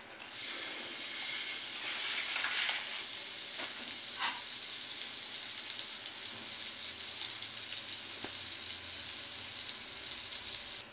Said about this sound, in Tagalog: Kanina pa yan mainit ang ating kawali, so ilagay na natin ang ating kapirasong butter